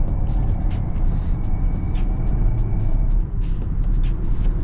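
2022 BMW 750i xDrive heard from inside during a night drive, a steady low engine and road drone with a faint high whine and repeated ticking noises layered on top.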